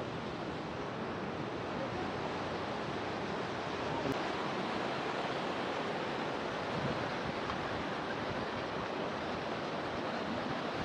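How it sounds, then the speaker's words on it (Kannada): Sea waves at Malpe Beach in Udupi make a continuous, even roar of surf that blends with wind across the microphone and holds steady without distinct breaks. "ಆರಾಮಾಗಿ ಕುತ್ಕೊಂಡು ಅಲೆಗಳ ಸೌಂಡ್ ಕೇಳ್ಕೊಂಡು ಹೋಗ್ಬೋದು"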